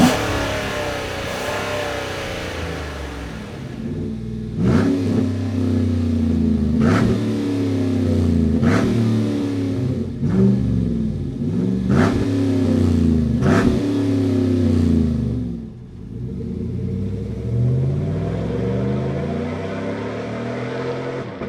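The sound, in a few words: pickup truck with 3-inch catback exhaust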